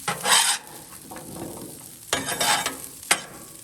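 Pork ribs sizzling and being stirred with a spatula on a Blackstone flat top grill outdoors, soft frying hiss with a few scraping bursts and a sharp metallic tap near the end.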